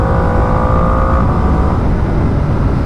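A Ducati Panigale V2 2025 motorcycle engine running on a small country road, a loud, steady low rumble with a constant droning tone and no voices.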